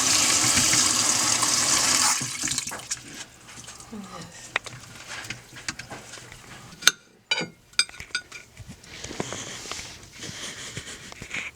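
Water runs loudly from a tap into a tiny sink while strawberries are prepared, then stops, leaving scattered clinks, knocks and handling sounds; people talk quietly throughout.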